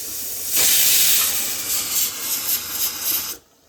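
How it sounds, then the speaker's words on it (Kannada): A small pressure cooker of biryani lets off a whistle, a loud steady hiss of escaping steam that starts abruptly, wavers briefly, then cuts off sharply, with no voices over it. "ಇವಾಗ ಕುಕ್ಕರ್ ಲಿಡ್ ಕ್ಲೋಸ್ ಮಾಡಿ 1-2 ವಿಸಿಲ್ ಬರಕ್ಕೆ ಬಿಡೋಣ"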